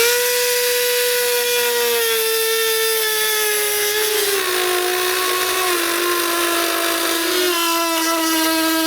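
A power tool cuts out openings in a panel of a 2019 Jeep Wrangler, giving a loud, continuous high whine whose pitch drops slightly under load and holds steady, close up, with no talk.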